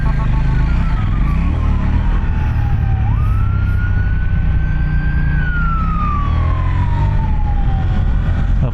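Police escort siren on a road in Malaysia, heard from a KTM Duke 790 motorcycle: a loud wailing tone that rises and falls slowly over a heavy rumble of engine and traffic, continuous throughout.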